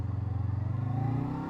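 Honda CBR 500R sports motorcycle engine accelerating on the road, a steady rising drone with the pitch climbing as it gains speed, close and continuous with no talk.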